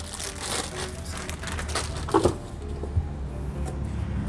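A plastic bag wrapping a PowerConnex power strip being handled, with crinkling and rustling throughout and a couple of louder crackles midway, close by and with no talk.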